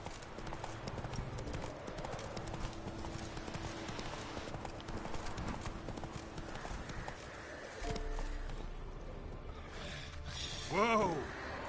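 Hooves of a horse galloping in The Witcher 3 video game, a steady rapid clip-clop beat under game ambience, with a brief whinny near the end.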